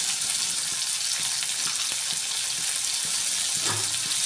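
Fish curry ingredients with chilli frying in a pan, a dense steady sizzle with occasional soft knocks from stirring, close and without speech.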